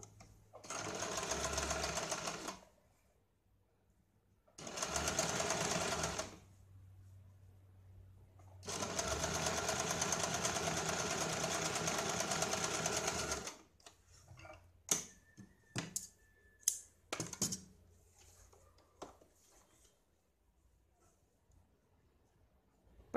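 A sewing machine stitches along a folded blouse strip in three long runs of steady, rapid needle chatter, close and loud, followed by scattered clicks and light handling of cloth with no talking.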